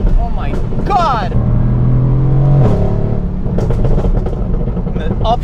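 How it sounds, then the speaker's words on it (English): Tuned Mercedes-AMG GT R with downpipes, a straight-piped exhaust and a Stage 1 tune roars loudly close by as it accelerates, with sharp cracks at the upshifts and the engine note rising and dropping between gears. "And the upshifts, they give you a much more aggressive crack now."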